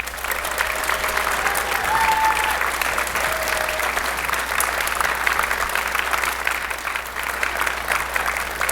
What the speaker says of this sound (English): I just really would like for you to give them another round of applause